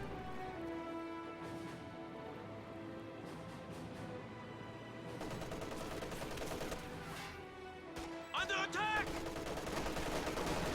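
An MG34 machine gun fires in a video game: quiet clusters of rattling bursts and sharp reports sit over a steady bed of battle ambience.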